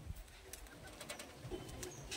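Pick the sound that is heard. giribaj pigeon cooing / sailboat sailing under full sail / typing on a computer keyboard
giribaj pigeon cooing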